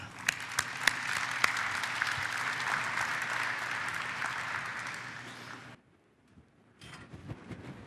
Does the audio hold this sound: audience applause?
yes